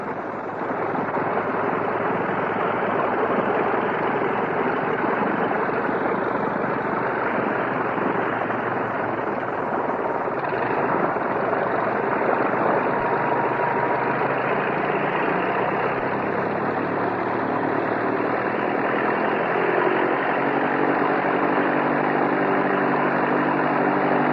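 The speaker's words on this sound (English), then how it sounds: "it's the sound of the famous OX5 engine" An old recording of a World War I OX5 V8 aircraft engine idling, a loud, steady, continuous low drone that holds evenly throughout and gradually settles as it idles down.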